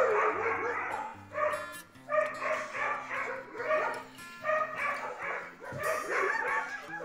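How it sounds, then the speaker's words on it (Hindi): Several dogs bark and yip repeatedly at a dog kennel farm, a steady chorus of overlapping barks at moderate distance with a low hum underneath. "यहाँ पे डॉगी डॉग भौंक रहे इस टाइम पे"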